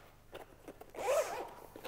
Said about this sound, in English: Zip that all back in